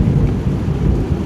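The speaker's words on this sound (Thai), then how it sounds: "ลมเนาะพายุถล่ม" A thunderstorm in full force, with a steady low rumble of thunder and wind beneath heavy rain pouring over surfaces. The roar is continuous and loud with no pauses.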